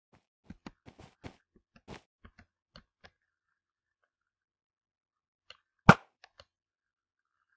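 Bow shots in the Minecraft BedWars game, a scatter of soft clicking taps followed by one louder sharp release, each short and isolated against silence.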